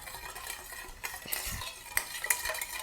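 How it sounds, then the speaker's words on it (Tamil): Milk and sugar are mixed in a bowl for an eggless brownie batter, giving a quiet run of stirring swishes and a few sharp utensil clinks against the bowl, with no talking. "இப்போ என்ன பண்ணிருக்கோம்னா இந்த மில்கையும் இந்த சுகரையும் மிக்ஸ் பண்ணிட்டுருக்கோம்"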